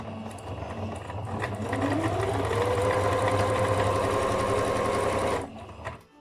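Sewing machine stitching a corner of fabric on a portable changing mat, running steadily and close for several seconds before stopping, alone without talk.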